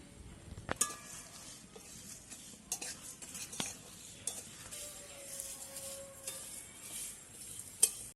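Whole spices such as coriander, cumin, cardamom, cloves, cinnamon, black pepper and bay leaf dry-roasting together in a kadai, with quiet scraping and stirring, light clinks of a utensil against the pan and a faint sizzle, no voices.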